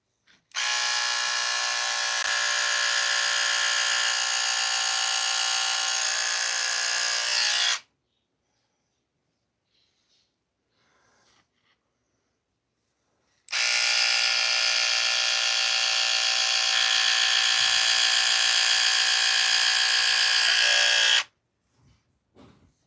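An electric hair trimmer cutting hair runs in two long, loud, steady buzzing stretches of about eight seconds each, separated by a quiet pause with faint handling noises.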